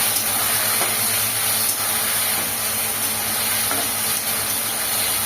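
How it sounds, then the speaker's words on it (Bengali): A spice paste of ground cumin, ginger, coriander, poppy seed and mustard fries in a hot pan, giving a steady, close sizzle with occasional stirring scrapes and no talk. "মশলাটা ভালো করে কষিয়ে নেব।"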